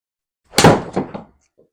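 A golf ball is struck on a SkyTrak launch-monitor simulator during a par-3 tee shot at Tobacco Road in GSPro. One loud close thump is followed by two softer knocks as the ball strikes the screen and settles, with no talk.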